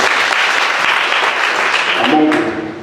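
Mothers at a church Mother's Day service break into loud, dense applause from a crowd, sustained for a couple of seconds before tapering off as a voice begins to be heard.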